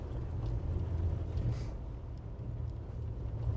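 A low, uneven idle from a 1989 Dodge LE150 V8 engine missing at least one cylinder rumbles steadily with a rough, lumpy rhythm, close and continuous, with no voices.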